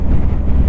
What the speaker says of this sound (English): it's gusty and windy right now because it storms in the area